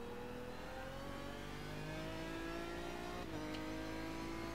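A Ford GT race car engine drones in the iRacing sim at Daytona road course, holding a steady rising pitch through the gears with a brief shift dip, loud and continuous with no talk.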